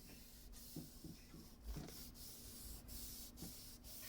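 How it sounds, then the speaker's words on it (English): A red Brillo pad soaked in lacquer thinner scrubs the old finish off an antique oak piece in faint, repeated back-and-forth rubbing strokes with soft scratchy hiss. "scrub down the entire piece with a red Brillo pad"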